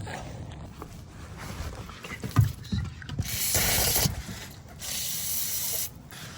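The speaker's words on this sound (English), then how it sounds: "spray it down with some brake clean real quick" Hissing bursts of aerosol brake cleaner during an oil change on a 2024 Lexus IS350, a couple of sustained sprays separated by pauses, close up amid light mechanical clinks and rubbing.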